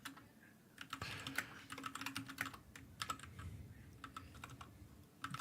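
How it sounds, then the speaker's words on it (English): Rapid, fast typing on a computer keyboard, a dense stream of light key clicks at low level with no talking. "Fastest typer in the West."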